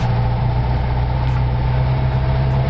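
A car engine, compared to a Volkswagen, idles steadily and quietly beside a trailer, giving a constant low hum with no change in pace.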